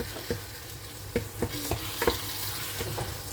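Food cooks gently in a pan with a low, steady sizzle, broken by soft stirring taps and scrapes every half second or so, close and fairly quiet.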